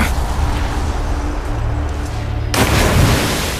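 A sudden heavy blast from the destruction of Metal Gear Zeke in Metal Gear Solid, a loud broadband boom bursting in after a low rumbling stretch and ringing out toward the end.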